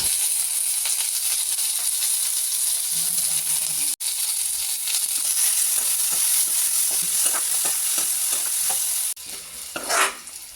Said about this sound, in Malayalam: നമ്മൾ അരിഞ്ഞു വെച്ചിരിക്കുന്ന സവാള അത് ആവശ്യത്തിനുള്ള ഉപ്പൂടം ചേർത്ത് നന്നായിട്ട് ഇളക്കി വഴറ്റിയെടുക്കാം